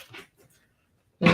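A pet dog gives a single loud, close bark near the end, after a moment of faint shuffling and near silence at a crafting table.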